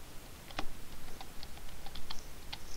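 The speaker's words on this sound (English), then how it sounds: "So if we type something in" Typing on a computer keyboard to enter text for a binary code encrypter, with a few scattered, faint key clicks over a background hiss.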